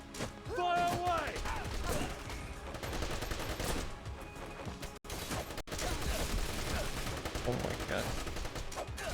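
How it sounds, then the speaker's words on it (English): Dense enemy gunfire in Wanted: Dead crackles in continuous rapid bursts, loud and close, as a person briefly exclaims over the shooting. "There's so many people shooting at us."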